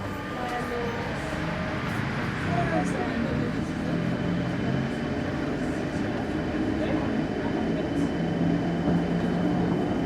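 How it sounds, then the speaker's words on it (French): A driverless automatic Line D metro train in Lyon rumbles with a steady, close, loud roar for the whole stretch, a faint high whine riding on top. "Allez, c'est parti à prendre le métro."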